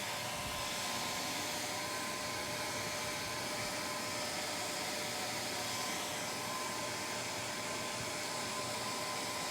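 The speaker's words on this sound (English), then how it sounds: "We're going to have to blow dry this a little bit because it still is, as you can see, it's pretty wet." A hair dryer blowing heat over wet adhesive brushed onto stone before sandcarving, running as a loud, constant, close-up whoosh for the whole stretch without a break.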